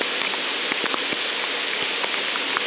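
Rain falling outdoors, a steady close hiss of drops with scattered sharper taps on surfaces, continuous and alone with no talking.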